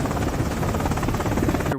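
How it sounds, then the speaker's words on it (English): A helicopter in an action movie scene gives a steady, loud rotor drone with dense rhythmic chopping throughout, ending in an abrupt cut, with some speech-like sound mixed in. "To save his life, Langston rushes to a helicopter"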